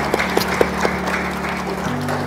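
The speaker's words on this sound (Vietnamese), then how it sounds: "Give the Lord a round of applause?" A church congregation claps in praise during a worship service, a short burst of several distinct claps over a sustained tonal musical background.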